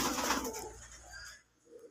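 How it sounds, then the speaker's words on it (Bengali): Pigeons coo softly amid rustling and fluttering nearby in a zoo pigeon shed, the sounds fading toward the end. "এই সাইটে যতগুলো শেড আছে সব কিন্তু কবুতর, বিভিন্ন জাতের কবুতর।"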